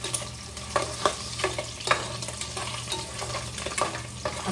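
Pork frying in a pan hisses steadily at a moderate level, broken by irregular clatters and scrapes of a utensil.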